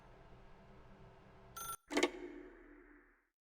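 A telephone rings inside The Stanley Parable game, a brief electronic ring burst, a short gap, then a louder second ring that fades over a low ambient hum.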